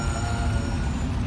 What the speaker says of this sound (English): Next truck is a French vehicle